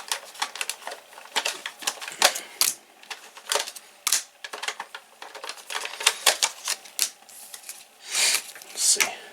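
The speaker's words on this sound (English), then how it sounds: "Now we're going to have to reload, so first we're going to take out the cards." Cards being pulled out of a toy Diend Driver to reload it, close, crisp plastic clicks and slides in quick irregular bursts, with a few rustling swipes.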